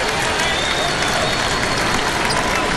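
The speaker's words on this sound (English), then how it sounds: "Big round of applause for Mace as he has 10 points on the night" A college basketball arena crowd applauds steadily as a player heads to the bench during Baylor versus Texas, a dense, continuous wash of clapping and crowd noise.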